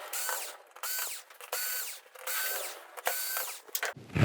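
A power screwdriver removes screws from the back panel of a VIZIO V505-H19 TV, giving repeated short whirring bursts with ratcheting clicks between pauses, close and fairly quiet.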